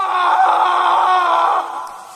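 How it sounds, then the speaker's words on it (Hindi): A man screams in a horror story, one sustained, loud and strained cry held for about a second and a half before it tapers off, with no talk over it. "और फिर अचानक किसी आदमी के चीखने की आवाजें आनी शुरू हो गईं।"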